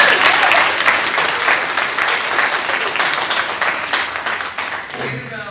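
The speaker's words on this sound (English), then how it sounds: "Clap for us." Sustained audience applause at a student awards celebration, loud and dense from the start and thinning slightly near the end, with some voices mixed into the crowd.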